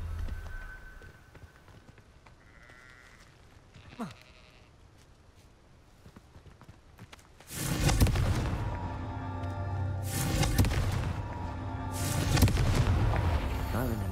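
Confringo fire spell blasts in the video game Hogwarts Legacy, heard as loud, booming explosive bursts that erupt after a quiet start, with repeated heavy blasts rolling on for several seconds.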